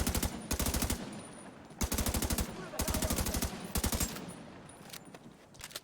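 Rapid automatic gunfire in a Division 2 firefight, several loud bursts of machine-gun fire with short gaps between them, heavy and close, with faint voices underneath.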